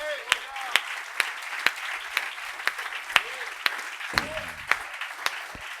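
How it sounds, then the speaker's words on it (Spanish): An audience at a national youth conference keeps up steady applause, with loud sharp individual claps or thumps recurring at a regular beat over the crowd and brief voices heard. "Yo quiero darle un aplauso a todos esos jóvenes."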